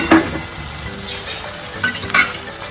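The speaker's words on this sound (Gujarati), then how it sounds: "આપણા જે કાંદા અને ટમેટા એકદમ એક્રોસ થઈ જાય ત્યાં સુધી તેને સાંકળવા દઈશું" Onions and tomatoes sizzle and fry in a pan for Gujarati doodhi shaak (bottle gourd curry), a steady loud crackle broken by a few sharp scrapes and clinks of a spoon stirring against the pan.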